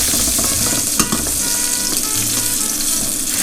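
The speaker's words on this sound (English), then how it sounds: "If you want to do the chefy thing, you can spoon some of that hot oil over the top of this every now and then" Salmon fillet frying skin-side down in hot oil, a loud, steady crackling sizzle that fills the whole stretch, with a brief utensil knock near the middle and no voices.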